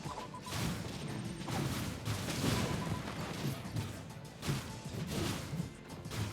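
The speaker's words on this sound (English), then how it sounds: "It's the gunfire mainly." Enemies in the action roguelite game OVIS LOOP fire guns in repeated bursts of sharp, crackling shots. The shots mix with impact crashes in a dense, continuous combat din.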